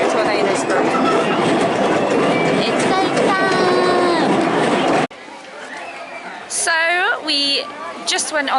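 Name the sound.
train ride clattering along the track at Paultons Park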